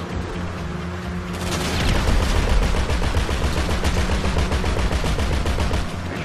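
Gunfire in a GTA 5 Online heist, video game: after a quieter opening, rapid automatic bursts erupt and continue in a loud, dense rattle of shots with no talking.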